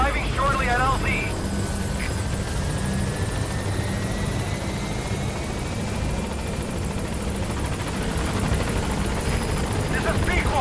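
A helicopter in Metal Gear Solid V approaches a landing zone, its rotor thumping loud and steady throughout, with a radio voice briefly heard over the engine drone.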